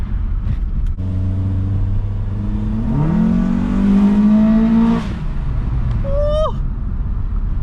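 A close Acura TSX engine with a short ram intake idles, then winds up hard under full throttle, pitch rising to a loud sustained roar before cutting off, with a brief high whine afterward.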